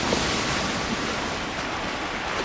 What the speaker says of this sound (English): Paddling well, paddling really well here through that gate.